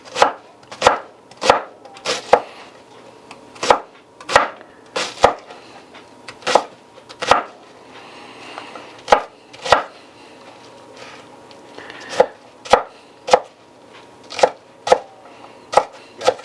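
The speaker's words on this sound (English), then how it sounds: "I'm going to go ahead and cut me up some onion." Knife coarsely chopping onion on a cutting board while making truck stop chili, a steady series of sharp close chops in bursts with short pauses, no talking.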